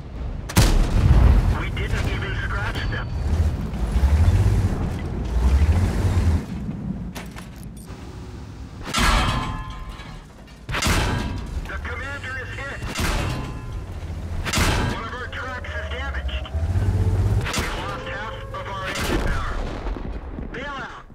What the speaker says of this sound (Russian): звуки попаданий ушами наводчика звучат так, как будто ты сидишь то в чугунной ванне, то в жестяной, а по тебе разного размера камнями бросаются